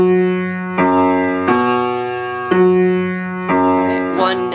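Bass guitar plays a Latin line of dotted-quarter notes landing on the fourth beat, each note plucked and ringing out in a steady repeating pattern, close and clear with no other instruments.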